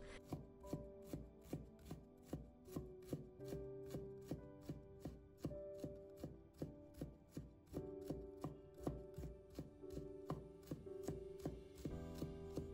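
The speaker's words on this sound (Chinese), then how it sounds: "再给它切成姜丝， 再切姜末" A knife rapidly minces peeled ginger on a cutting board, producing a steady, even rhythm of close, crisp chops that continues throughout without any talking.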